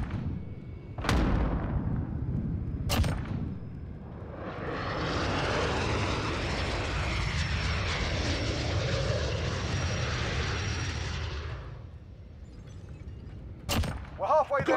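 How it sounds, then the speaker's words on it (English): A helicopter's engine roar swells up in a military shooter game, a loud continuous whooshing drone lasting several seconds between sharp gunshot cracks, then fading. "Chopper on station."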